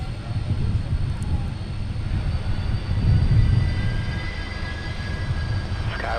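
A UPS aircraft taxis on Taxiway Mike at Minneapolis–St. Paul airport, its engines a steady low rumble and whine that swells briefly midway, heard from a distance without talk.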